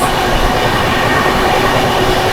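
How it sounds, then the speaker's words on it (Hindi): A 22438 Anand Vihar Terminal–Prayagraj Humsafar Express overtaking the New Delhi–Prayagraj Express, heard as a loud, continuous, close rumble and roar of rolling wheels with no break. "skipping Aligarh junction and overtaking new Delhi Prayagraj express"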